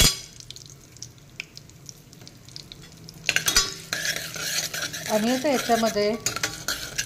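Spices with cumin, turmeric and asafoetida sizzle in a hot pan while a spoon stirs and scrapes against the metal. The frying grows louder partway through, and a voice speaks briefly over it.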